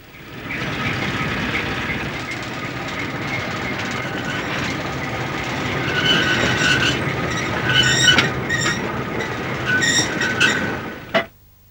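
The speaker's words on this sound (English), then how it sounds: "A little diesel shunter came on duty." A small diesel shunter locomotive rumbling past with rattling wagons, wheel squeal and clickety-clack on the rails, growing louder toward the end before cutting off sharply.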